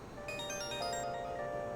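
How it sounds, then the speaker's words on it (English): Phone ringtone in Persona 5 Royal, a short bright melodic electronic jingle of layered tones playing softly and alone. "That's a snazzy ringtone."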